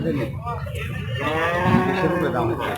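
A cow at the Rajshahi city cattle market lets out a long, loud, drawn-out moo close by, over a murmur of market noise.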